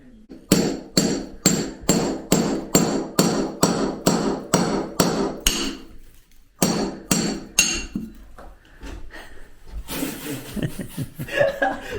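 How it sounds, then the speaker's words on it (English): Hammer blows knock half a dozen bricks out of a wall, a fast, steady series of sharp close strikes for about six seconds, then a pause and a few scattered hits, with faint muffled chuckling and voices. "I'm taking half a dozen bricks out here"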